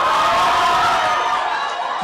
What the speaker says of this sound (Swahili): Ni vigelegele vya wafuasi wa gavana Alfred Mutua katika mahakama kuu Machakos